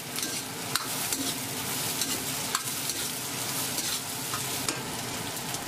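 Fresh chili peppers tossed in a wok with Sichuan peppercorns, pickled wild chilies and scallion pieces for Chongqing hot pepper chicken, giving a continuous loud sizzle broken by sharp spatula scrapes and clacks, and no voices.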